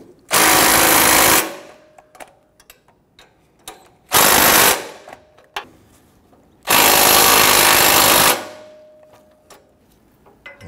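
Three loud bursts from a power tool tightening catalytic converter bolts on a Nissan Frontier, each a second or two long, with quiet clinks and handling noises in the gaps.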